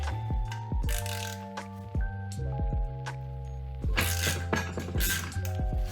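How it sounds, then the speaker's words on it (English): Metallic clicks and clinks ring out as a 3/8 ratchet is fitted and turned on the transmission fill plug of a BMW E36, several short bursts across the span with quiet gaps. "All we need to pop this open is a 3/8 ratchet."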